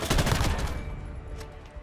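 Light machine gun fire in Call of Duty Modern Warfare, a quick close burst of rapid shots in the first half second, then trailing into quieter reverberant crackles.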